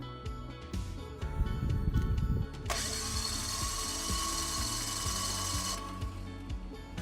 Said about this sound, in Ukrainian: Починаємо давати оберти двигуну.